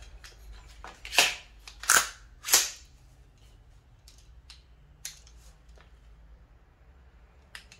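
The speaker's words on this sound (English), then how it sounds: "Let's try that empty bolt catch." An LMT rifle with a TriArc part racks and locks open on an empty bolt catch: three loud sharp metallic clacks close together, followed by fainter clicks and handling noise.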